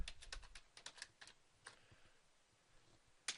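Typing on a computer keyboard: a quick run of close, crisp keystrokes in the first half, a few scattered taps, then quiet before one last sharp key click near the end.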